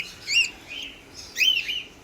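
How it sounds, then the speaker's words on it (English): Young hand-fed cockatiels in a pet shop give repeated high, thin chirps in short bursts over a faint background hum. "Here's some new little cockatiels that we got in"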